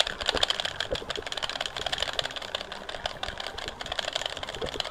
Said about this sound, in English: Insert loud clicking noises in 3, 2, 1.